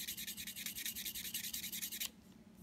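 Rapid rhythmic back-and-forth rubbing of 1000-grit sandpaper on a wooden revolver stock, close and quiet, about a dozen even strokes before it stops and leaves low background hum.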